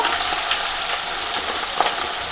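Sliced onions go into a hot pan of oil for an okra and prawn curry, filling it with a loud, dense, close-up frying hiss that holds steady throughout.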